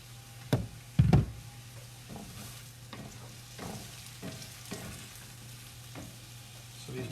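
Mushrooms sautéing in oil over high heat in a pan with browned bits of meat, a steady low sizzle running throughout with a couple of sharp utensil knocks near the start and softer scraping stirs after, no talking.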